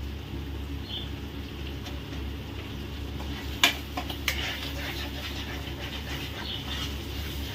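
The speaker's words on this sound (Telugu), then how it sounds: "ఉల్లిపాయ పేస్ట్ అయితే అడుగు పట్టకుండా అలా కలుపుకుంటూ ఉండాలండి." Onion paste being stirred in a cooking pan, with a steady low sizzle and a few brief scraping clicks of the spoon near the middle. No one speaks, and a constant background hum sits underneath.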